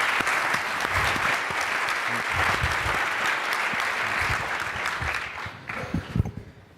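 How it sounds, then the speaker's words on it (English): An audience applauds an interview guest at a live business-school event, with sustained dense clapping that holds steady for several seconds before thinning out and tapering near the end. "Could you please give him a big round of applause to start this thing?"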